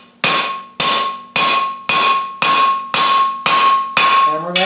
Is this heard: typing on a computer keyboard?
no